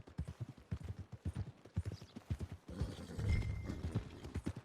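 Horse hooves clip-clop in an even, steady rhythm in Red Dead Redemption 2, close and distinct, with a soft snort or whinny partway through.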